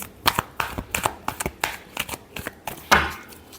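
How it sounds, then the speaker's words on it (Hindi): Tarot cards are shuffled by hand in a quick run of crisp, close riffling snaps and slaps, about a dozen bursts in irregular rhythm, with a louder flurry near the end. "last shuffle"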